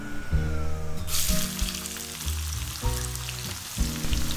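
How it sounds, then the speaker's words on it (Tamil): Finely chopped large onion drops into hot oil in a pan while a potato gravy is being made, bursting into a loud sizzle that keeps crackling as it is stirred, with occasional clatter and no talk. "அடுத்ததாக பொடி பொடியாக நறுக்குனா ஒரே ஒரு பெரிய வெங்காயத்தை போட்டு வதக்கிக்கலாம்."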